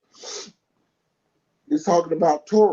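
A single sharp sneeze-like burst near the start, followed after a pause by someone speaking close by.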